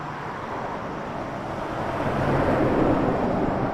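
A Republic Airways United Express regional jet lines up for takeoff at Toronto Pearson, its engines a steady, broad rumbling roar that swells slightly louder midway, heard from a distance with no voices.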